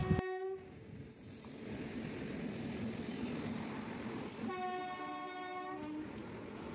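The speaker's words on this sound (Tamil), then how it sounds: "பல்லவன் சூப்பர் ஃபாஸ்ட் எக்ஸ்ப்ரெஸ் கிராசிங்கை தான் பார்த்துட்ருக்கோம்" The Pallavan Superfast Express rumbles past a crossing with a continuous roar of wheels and carriages, and its horn blares at the start and again near the end.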